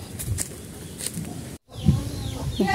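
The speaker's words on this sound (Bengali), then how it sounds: "মুরগিগুলা কেমনে দৌড়ে আসতেছে।" Village chickens cluck and squawk as they run toward the camera, a close, busy flurry of short calls on either side of a brief gap, outdoors.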